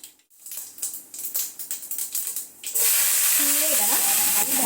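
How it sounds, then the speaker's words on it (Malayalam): Mustard seeds hit hot oil in a pan and burst into a loud, continuous sizzle and spatter. Brief clicks and bumps come just before. "പാൻ വെച്ചു എണ്ണ ഒഴിച്ചിട്ട് കടുകിട്ട്"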